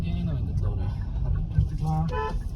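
A Hyundai Tucson's horn sounds briefly amid steady traffic rumble, with voices talking in the background.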